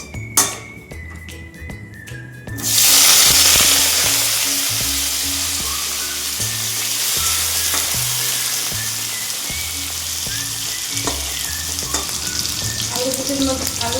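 Potatoes tipped into hot oil with dried red chillies in a pan burst into a loud, steady sizzle that holds strong to the end, with soft music running underneath.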